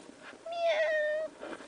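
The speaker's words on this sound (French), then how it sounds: "je vais te présenter mon petit chat Victoria" A small cat gives one clear, drawn-out meow, close and fairly loud, with quiet room sound before and after.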